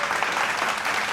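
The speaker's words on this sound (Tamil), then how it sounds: "அதுக்கே ஒரு கைத்தட்டு அந்த பெற்றோர்களுக்கு." Audience applause at a Tamil talk, a dense steady clapping from a crowd, loud and continuous throughout.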